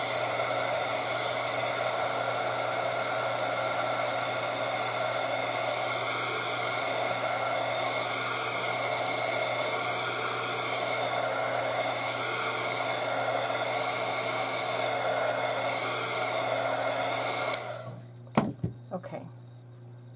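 A hair dryer blows steadily to dry paint on a feather, a loud, constant, close whirr with a steady hum that lasts about seventeen seconds and then shuts off, followed by a few light handling knocks.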